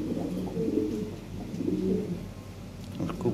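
Pigeons at a bird market where pairs are sold, cooing steadily and close by in low, throaty rolling coos throughout, with a few faint chirps above.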